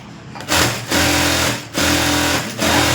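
A sewing machine stitching blouse lining runs in three close, loud bursts of rapid whirring needle chatter, separated by brief pauses.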